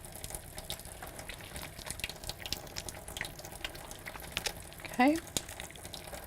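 A faucet runs steadily during hand washing at a sink, water streaming close by with light splashing, and a voice speaks briefly over it.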